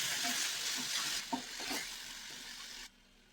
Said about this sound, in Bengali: প্রথমে আমি পেঁয়াজ বাটাটা দিয়ে লাল লাল করে ভেজে নিই।